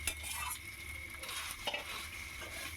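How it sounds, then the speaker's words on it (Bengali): Mashed boiled potato filling fries and is stirred in a pan, producing a close, continuous sizzle broken by scraping and spatula clinks against the metal. "দিয়ে ভালো করে নেড়ে চেড়ে ভেজে নেব, নিয়ে একটি পুর আমি তৈরি করে রাখব"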